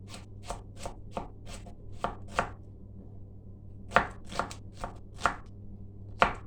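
Bursts of rapid knife chops through onions against a board, a run of strikes, a pause, then another flurry, fairly quiet and close.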